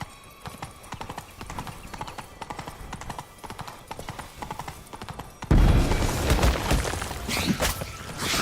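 Hooves clip-clop in a steady trotting rhythm in The Witcher video game, then a louder burst of rumbling movement with a horse whinny and heavier hoof thuds takes over near the end.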